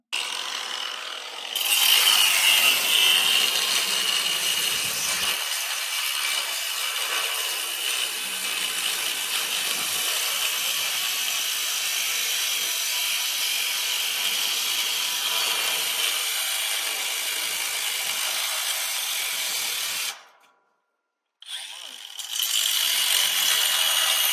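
Saw cutting out a clip in the tail section of an old trailer, a steady loud grinding rasp running close and continuous, with a brief pause near the end before the cutting resumes.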